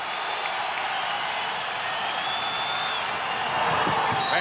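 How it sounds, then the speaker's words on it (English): A basketball arena crowd at a college game rises into loud, sustained cheering and a broad roar, swelling further toward the end while a commentator talks over it. "Now the crowd getting into it."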